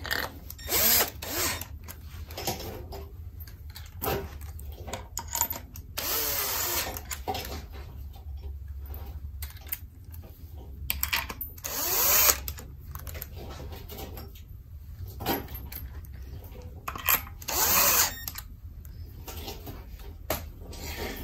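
A handheld power tool runs in repeated short bursts while driving oil pump bolts on a Jaguar V-12 engine, close and fairly loud, with quiet pauses between each burst and no talking.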